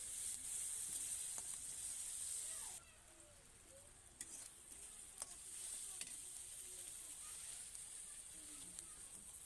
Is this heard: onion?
yes